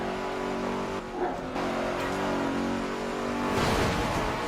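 Lotus sports car engine in the racing game Midnight Club 3: DUB Edition Remix, a steady loud drone that swells near the end as it revs, with no talk.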